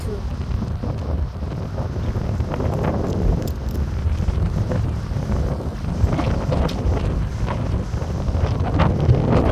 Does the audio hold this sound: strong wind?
yes